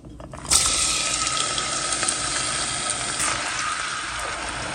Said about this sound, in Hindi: आधा कप ऑयल डाल देते हैं। प्याज फ्राई कर लेंगे।